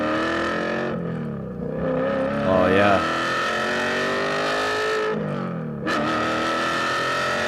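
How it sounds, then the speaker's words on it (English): An exotic car with a six-speed manual transmission revs, with harmonic engine tones climbing and dropping through gear changes, loud and close, as people talk over it and one voice exclaims. "but it sounds like an exotic car."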